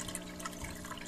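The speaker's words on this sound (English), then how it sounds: "The water drops down through there." Water trickles and drips steadily through a fish tank filter, a continuous close wash of liquid with small splashy detail and no voices.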